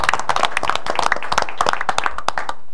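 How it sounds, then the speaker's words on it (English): Audience members at a school board meeting clap for a support staff member, a short burst of close, uneven hand claps from a small group. "go ahead and clap for her."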